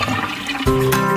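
Water gushes down a drain in a short flushing burst that starts abruptly after a quiet moment and swells loud and close.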